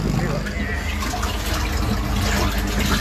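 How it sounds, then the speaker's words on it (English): Pumps being primed on a personal watercraft during a jet ski rescue at Haulover Sandbar, a steady rushing, gurgling water noise running throughout, with voices talking over it. "We're priming our pumps."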